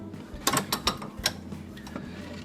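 A bench vise clamps down on a wooden board with a rubber round piece in the jaws, giving a few quick, close ratcheting clicks and mechanical creaks in a quiet workshop.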